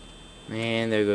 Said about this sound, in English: And there goes the alarms again.